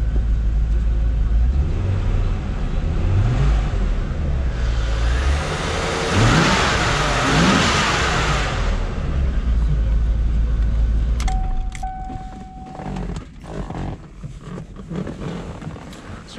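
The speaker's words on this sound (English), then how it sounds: "Rev it up a little bit here." A 1996 Chevrolet Corvette engine idles loud and close, then revs up and settles back, before quieter workshop sounds and a brief beep near the end, with talking in the background.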